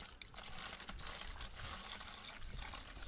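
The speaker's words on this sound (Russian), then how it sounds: "Процесс налива дизельного топлива." Diesel fuel poured into the fuel system of an old ZIL crane truck, a steady close liquid trickle and splash lasting a few seconds.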